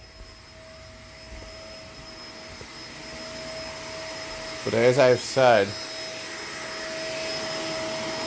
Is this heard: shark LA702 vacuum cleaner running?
yes